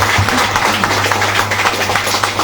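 An audience at a network marketing seminar claps and applauds steadily and loudly, with many hands making a dense, continuous patter.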